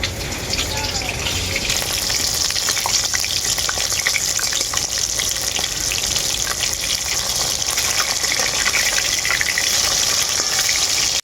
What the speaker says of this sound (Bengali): মাছটার এক পিঠটা খুব ভালো করে ভাজা হয়ে গেছে আর এক পিঠটা পাল্টে নেব